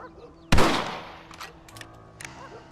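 A single loud rifle shot in Red Dead Redemption cracks near at once, its sharp report trailing into a short echo, with faint background sounds after.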